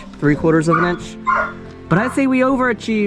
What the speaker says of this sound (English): And I'm sorry my dog's barking.